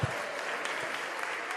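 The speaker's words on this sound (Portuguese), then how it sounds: "Dê glória a Jesus e aplauda Ele" A church congregation applauding during a service, a steady wash of clapping at a moderate level with faint crowd murmur underneath, brief and unbroken.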